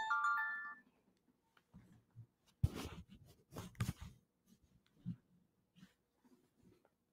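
A phone rings with an incoming scam call: a short electronic ringtone opens the clip, then fades into quiet room noise with scattered soft knocks and handling sounds.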